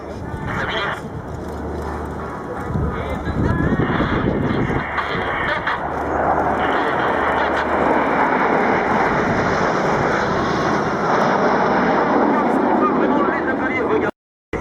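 Jet aircraft flying manoeuvres at the Florennes air base airshow in 2012, pilots rolling on the leader's command, make a loud, continuous roaring engine rush that swells and holds for the whole stretch.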